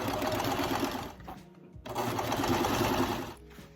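A sewing machine stitches a jeans hem in a fast steady whir close by, stopping briefly in the middle before running again and trailing off at the end.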